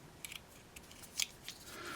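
Small pocket knife scissors snip and click a few times, quiet, close and brief, with short sharp metallic ticks against a hushed background.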